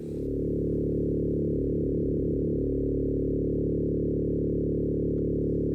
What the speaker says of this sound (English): So I'd like to use the through zero frequency modulation